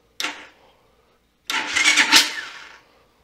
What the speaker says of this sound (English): Push the starter button.